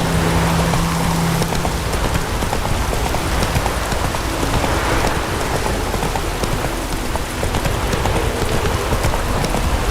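Horse hooves clip-clop steadily in a Witcher 3 game scene, the rhythmic clopping mixed under a constant wash of rain on surfaces.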